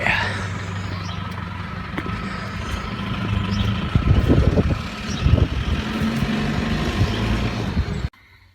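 A smoky Land Rover Discovery 1 with the 200Tdi diesel engine pulls away for an MoT retest. Its close diesel rumble swells midway as it moves off, then cuts out abruptly.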